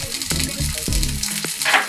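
Butter dropped into a hot cast iron skillet crackles and sizzles steadily, with a few soft pops and scrapes close by.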